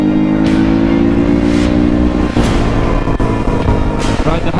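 A Husqvarna 450 dual sport motorcycle cruising on a highway, its engine droning steadily and loudly at close range with wind rush and a few shifts in pitch, no voices.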